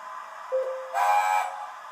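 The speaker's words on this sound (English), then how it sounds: "screech whistle," A Hornby model locomotive with digital sound plays a screech whistle effect: a short tone, then a louder, brighter shrill whistle burst lasting about half a second before fading back to quiet hum.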